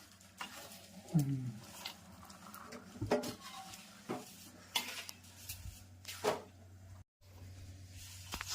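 A spatula scrapes and turns gundar pak cooking in ghee in a pan, irregular clanks and scraping strokes against the metal with faint sizzling underneath, close by.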